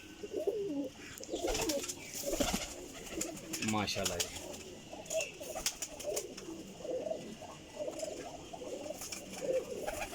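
Pigeons of a large flying breed coo repeatedly in a loft, soft rolling calls overlapping close to the microphone, while someone talks intermittently over them and other birds chirp in the background.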